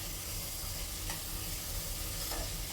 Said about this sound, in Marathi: मिरची टोमॅटो हे सर्व आपण तुपामध्ये परतून घेऊ